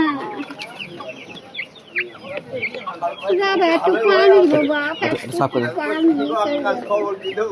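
Chickens cluck and squawk close by while people talk over them throughout.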